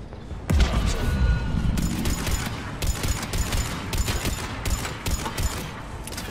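Gunfire and a grenade blast in the video game Mass Effect 3: a loud boom, then sustained rapid automatic fire in repeated bursts with short gaps, dense and close throughout.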